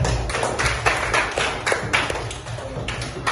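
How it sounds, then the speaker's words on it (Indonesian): A burst of clapping from a group, uneven rapid claps blending together for a few seconds, fairly close and loud. "tepuk tangan"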